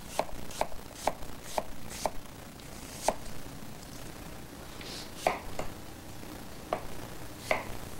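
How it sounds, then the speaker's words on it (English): A knife slices apple quarters into thin slices on a cutting board, giving crisp, evenly spaced chopping taps, about a dozen over several seconds, close and fairly quiet with no talking. "Slice the apple in quarters"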